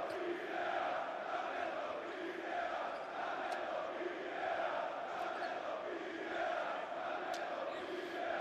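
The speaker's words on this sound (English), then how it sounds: "Well, the Athenian crowds, the Pana Ultras, adding to the atmosphere." Panathinaikos Pana Ultras fans fill an Athens basketball arena with a steady, dense roar of chanting and cheering that holds at constant loudness throughout, with no break in the noise.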